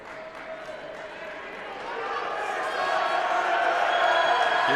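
Crowd noise swells steadily in a college basketball gym during a men's overtime game, a rising roar of cheering spectators under a play-by-play announcer's voice.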